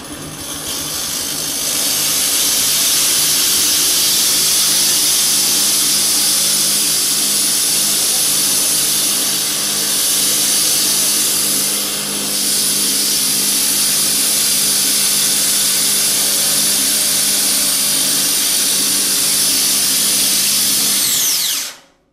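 Multi-purpose grain milling machine grinding grain into fine powder, a loud, continuous, high-pitched whine and roar held steady for over twenty seconds before cutting off abruptly.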